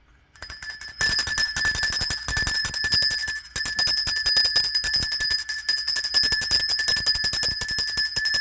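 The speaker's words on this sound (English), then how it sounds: "Like a loud bell." A loud, sustained ringing bell with bright, steady overtones, sounding close and continuous for several seconds with a brief dip partway through, alone without voices.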